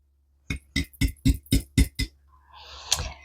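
A glass jar that held cinnamon sticks clinks seven times in a quick, close, ringing series while being handled in a home kitchen, followed by a short, softer scraping rustle.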